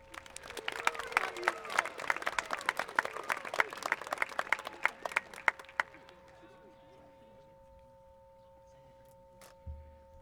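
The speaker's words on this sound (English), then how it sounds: "Let's give them one more round of applause." Graduation crowd at a high school ceremony applauding in a dense burst of clapping for about six seconds, then fading out, with a steady tone humming underneath and a brief thump near the end.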